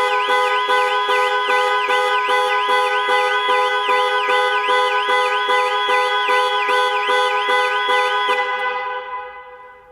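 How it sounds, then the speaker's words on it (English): A loud Jaguar I-PACE 2020 panic alarm horn blares in a rapid, regular pulsing pattern for several seconds, then cuts off. "Press for 3 seconds or press 3 times in 3 seconds and the horn will sound"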